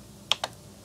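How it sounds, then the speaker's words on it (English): A computer keyboard being typed on, giving two crisp, close keystroke clicks in quick succession against quiet background hiss. "I'm going to type in my email address and I'm going to type in my password"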